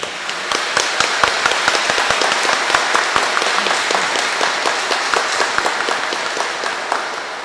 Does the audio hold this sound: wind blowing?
no